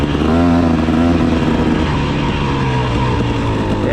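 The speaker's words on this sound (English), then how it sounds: "when you want to get past one of them old Kawasaki's, you just bear down in there a little bit" An old Kawasaki dirt bike engine roars loudly and close throughout, its pitch swooping up and easing back as the rider works the throttle.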